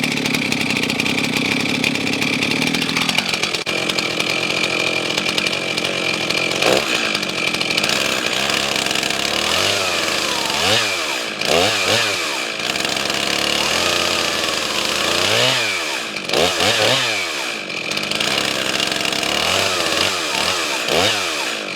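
A Stihl MS 391 chainsaw runs loud and close for the whole stretch, its engine holding a steady high whine and repeatedly revving up and dropping back in short bursts.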